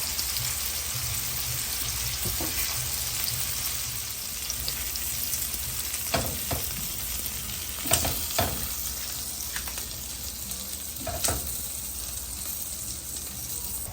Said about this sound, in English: We're going to sear the shrimp for about 1 to 2 minutes.